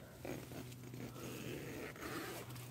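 A zipper on a Geertop tactical one-man bivvy tent is undone in several quick rasping pulls, close and fairly quiet, with no talking.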